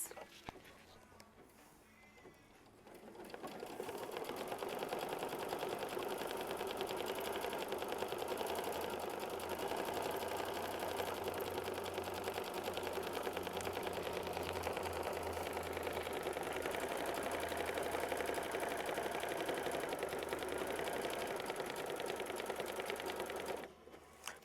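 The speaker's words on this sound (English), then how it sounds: "it's going to stitch down the outline for the hearts" A sewing machine, likely an automated embroidery unit, stitches down heart outlines on a quilt block in a continuous fast, even buzz that runs for about twenty seconds before stopping abruptly.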